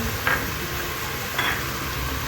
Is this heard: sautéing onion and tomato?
yes